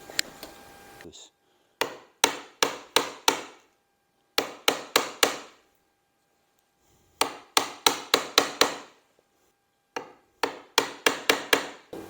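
Japanese Dozuki handsaw cutting a wood joint: crisp, close sawing strokes in quick runs of three to five, separated by short silent pauses.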